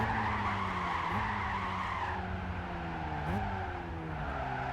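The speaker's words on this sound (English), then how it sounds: "And then hard on the brakes." A race car in Gran Turismo 5 brakes hard with tires squealing in a sustained skid over a steady engine drone, which shifts pitch as it downshifts; loud and close throughout.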